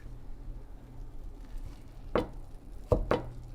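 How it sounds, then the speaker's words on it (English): A spatula cuts through a Persian zucchini frittata (kuku) in a frying pan, three sharp scraping knocks against the pan over a quiet hum, the last two close together. "So I'm gonna cut and turn it around to cook the top of it."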